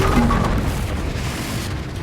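A Confringo blast spell explodes in Hogwarts Legacy, a loud, continuous booming rumble that fills the whole moment with dense low-end roar and no voices.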